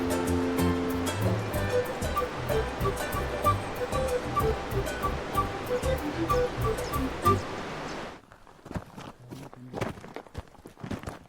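River water during a crossing on a trek toward Incan ruins: steady, loud rushing and splashing across the whole span, punctuated by feet sloshing through the water, then thinning out in the last few seconds to scattered wet steps.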